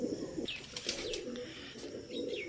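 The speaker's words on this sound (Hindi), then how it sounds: "जी दोस्तों, ये कबूतरी है।" Female pigeon cooing nearby: soft, low, rolling coos repeated in short phrases, fairly quiet, with faint background chirps and no talking.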